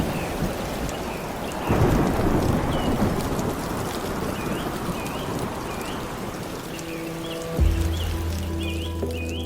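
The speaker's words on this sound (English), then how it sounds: "And then the heavy rain pours down, thunder splits the sky, and the wind thrashes through the canopy" Heavy rain pours steadily through a rainforest canopy while thunder rumbles in, with a loud crack near the start and another deep boom toward the end; wind gusts thrash beneath the constant downpour.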